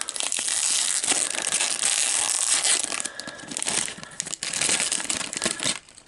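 Crinkly plastic crackling and tearing as a sealed bag of Lego pieces is pulled open, loud and close, continuous with brief pauses and no talk.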